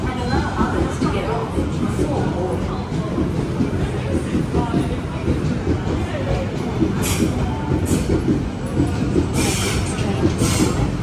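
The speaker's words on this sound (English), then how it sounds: "There goes the altered service, the express," Sydney Trains express passenger service to Leppington passing close by, a loud steady rumble of wheels and carriages with clicking over rail joints and brief high squeals throughout.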